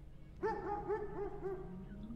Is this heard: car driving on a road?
no